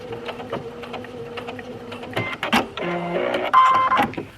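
A sewing machine back-stitches a seam on a low-key cami, running in a steady, close mechanical whir. The motor speed changes and the stitching rhythm varies as the seam is reversed, with no talking.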